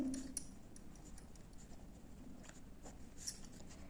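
Pen writing on paper during a Class 9 maths lesson, a quiet run of soft scratchy strokes and small taps, faint and close, with no talking.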